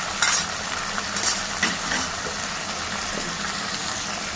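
Curry of tapioca and flat beans sizzling in a pan with tomatoes and curry leaves, a steady close frying hiss with occasional scrapes and clinks of stirring, no talk.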